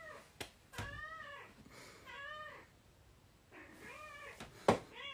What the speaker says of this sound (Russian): Извините, кошка. Заходи.